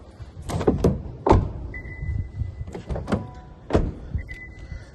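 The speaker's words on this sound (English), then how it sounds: "Hit the unlock button twice, all the rest of the doors unlock." A 2024 Honda Civic's door locks clunk and thump in quick succession as the key fob unlock button is pressed twice, with a few short electronic chirps and mechanical clicks from the car.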